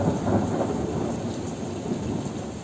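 Thunder from a thunder and lightning storm rumbles low and steady, mixed with continuous heavy rain, heard from indoors near a window with no voices.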